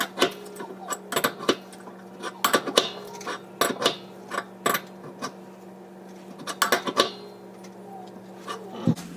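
Wrench tightening a fitting near a pressure release valve: a string of close metallic clicks and clanks in uneven bursts, some quick doubles, over a faint steady hum.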